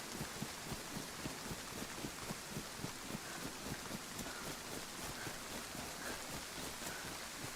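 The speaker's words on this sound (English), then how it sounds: "Maybe the rain will stop and it'll clear up" Steady rain falling in the video game DayZ, a soft continuous patter with light wind, faint and unbroken throughout with no voices.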